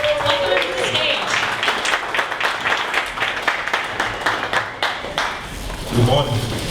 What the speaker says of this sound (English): So big round of applause. Welcome him to the stage.